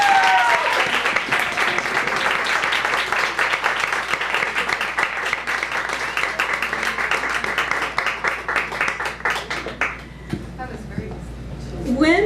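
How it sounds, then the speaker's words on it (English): An audience at a women's music and spoken-word evening in a venue applauds, with dense sustained clapping and some voices that carry on for about ten seconds before trailing off into scattered claps and room noise. "I actually think that deserves another round of applause."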